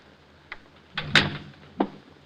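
A door opens or closes in a radio drama, heard as a few close knocks and clunks of the latch and frame with a short scrape, without talk.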